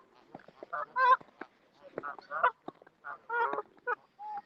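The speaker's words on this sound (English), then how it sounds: "I'll just show you the kind of geese confused in the snow." Geese in a snowy winter setting honk repeatedly in an irregular chorus of short nasal calls, fairly close and clear against quiet surroundings.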